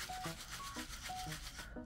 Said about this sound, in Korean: 이 쉐이커 다이어리는 소리가 매력인 것 같아요.